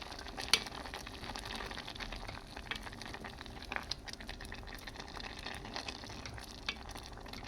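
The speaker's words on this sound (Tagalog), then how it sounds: "Pakuluan na naman natin ng 1 minute lang. Ayan, kulong-kulo na." A pot of corn and mixed vegetables boiling hard, with faint, steady bubbling and crackling sizzle throughout, lightly spattered with small pops and ticks, without any talking.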